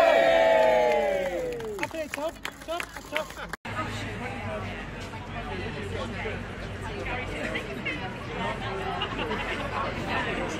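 A crowd gathered outside court for former subpostmasters breaks into loud cheering and whooping, then settles into a busy murmur of chatter and shouts, with people talking close by.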